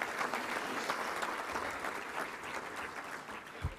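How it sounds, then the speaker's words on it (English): A luncheon crowd at the Little Rock Touchdown Club applauds its team, a soft, distant, sustained patter of many hands, with one brief low thump near the end. "Let's give a big round of applause to all of our team."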